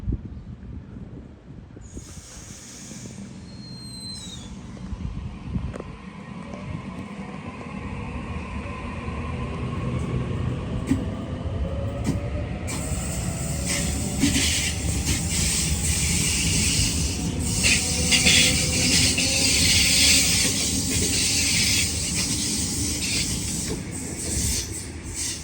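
A Sydney train runs through Dulwich Hill station, its rumble and hiss swelling steadily to a sustained roar. Faint wheel squeal and clicking rise as it passes nearby, with no voices.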